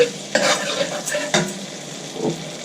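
Garlic browning in hot oil in a pan, stirred with a few distinct scraping strokes over a low, steady sizzle, close and fairly loud.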